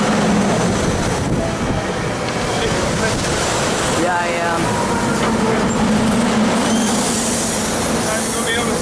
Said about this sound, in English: Amtrak train. Oh, Amtrak.